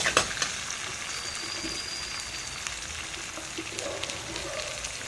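Potato palya being stirred in a frying pan, a steady close sizzle of hot oil with soft scraping and clinking of the spatula against the pan, running continuously without talk.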